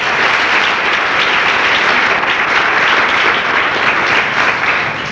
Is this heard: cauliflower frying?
no